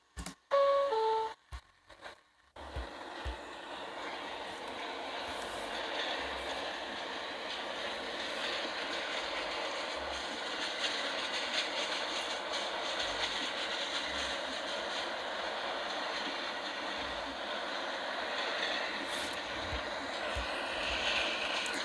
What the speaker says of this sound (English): This is a 207th Street bound A express train.